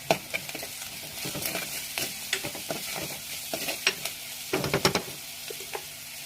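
Crushed garlic hits hot oil in a pan while cooking lentils, sizzling and crackling close up, with scattered stirring clicks and bursts of spatter over a soft frying hiss.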